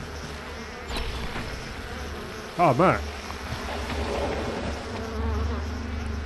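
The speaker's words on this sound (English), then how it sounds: "Swarm of bees." A swarm of bees in the Lord of the Rings Online video game, a loud buzzing burst with rising and falling swoops over background game sound. Someone speaks briefly.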